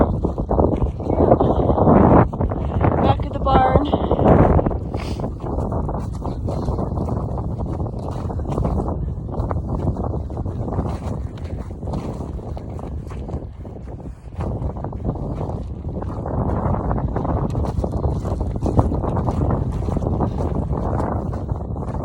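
Wind buffets a microphone outdoors near a house on a cold day, a steady broadband rumble and roar that gusts louder at the start and again near the end, with no talking.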